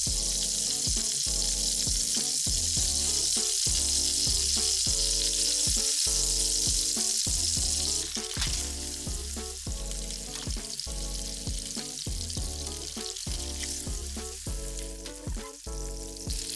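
Meatballs sizzle in a pan as they are rolled and turned, a steady bright frying hiss running beneath louder rhythmic background music throughout.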